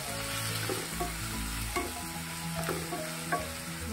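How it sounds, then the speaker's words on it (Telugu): Onion paste frying in a pan for capsicum curry: a steady, close sizzle and hiss with occasional utensil taps and scrapes, continuous and even throughout with no talking. "ఆనియన్ పేస్ట్ని మనం ఇందులో వేసేద్దాం. వేసి బాగా ఇది కొంచెం బాగా వేగనివ్వాలి"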